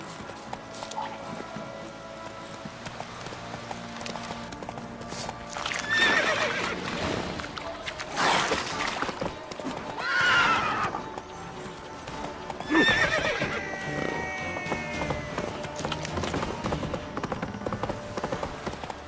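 Horse hooves clip-clop steadily throughout in The Witcher 3, with several loud whinnies and neighs rising over the trotting at intervals, close and clear with no talking.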